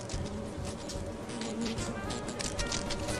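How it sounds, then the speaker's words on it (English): Bees in the video game Lethal Company buzz in a dense, continuous drone, fairly faint, with scattered clicks and patter around it. "the bees are fucking stalking him"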